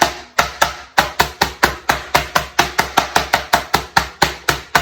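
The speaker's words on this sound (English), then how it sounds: "So I'm just going to take this meat mallet and hit it a couple of times." The rough end of a meat mallet pounds steak in a fast, steady run of about twenty sharp, close thuds, evenly spaced and loud, with no talking.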